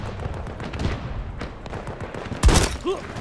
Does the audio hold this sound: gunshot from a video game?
yes